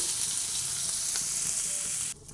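Spoonful of ginger frying in a pan over low flame, a continuous close sizzling hiss with light stirring that cuts off sharply near the end, no talking.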